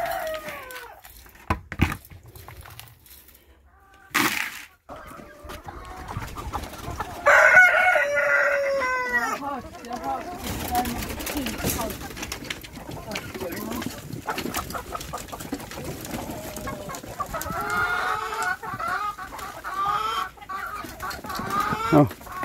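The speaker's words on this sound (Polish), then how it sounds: "moje kurki się niosą i są szczęśliwe," Hens in a backyard flock cluck and crow throughout, with a rooster-like crow standing out near the middle; the birds sound close and steady, and someone talks to them intermittently over the clucking.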